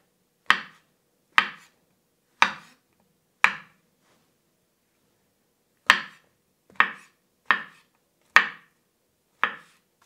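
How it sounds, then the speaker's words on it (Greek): A knife cuts sliced mushrooms on a board in nine crisp, separate knocks: four at a steady pace, a short pause, then five more close together, each sharp, near and clean against silence. "Κόβουμε τα μανιτάρια σε φέτες."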